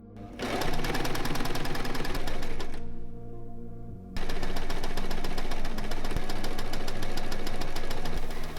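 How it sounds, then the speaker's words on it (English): A sewing machine rattles rapidly as it stitches fabric along the shoulders and sides of a top, loud and close, stopping briefly before resuming its fast steady chatter. "I'm going to sew this right sides together along the shoulders and the sides."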